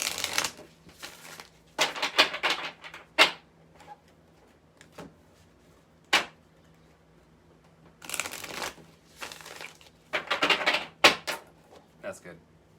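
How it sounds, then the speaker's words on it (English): Oracle cards are shuffled in quick riffling bursts, several separate flurries with short pauses and a few sharp taps between them, close up. "let's shuffle you up a super attractor card"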